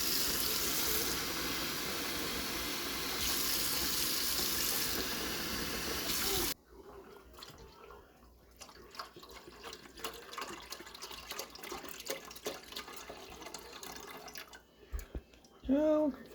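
A hot-water kitchen tap gushes loudly and steadily into a sink for several seconds, then stops; quieter clinks and handling noises follow.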